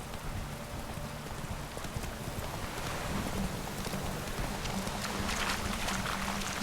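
Roach, a horse in The Witcher 3 video game, clip-clops its hooves at a steady pace under a constant wash of rain, with no talking.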